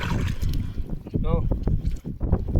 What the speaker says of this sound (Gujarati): ખાડીમાં પણ પવન દુનિયાનો છે કારણ કે વાવાઝોડાનો પવન એવો પવન આવે